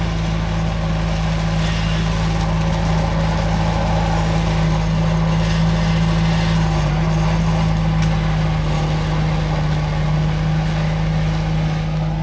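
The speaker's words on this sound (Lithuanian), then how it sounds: "Va, traktorius pjauna, mums žolę ruošia." A tractor mowing grass nearby gives off a continuous, even engine drone with a low steady hum that holds unchanged throughout.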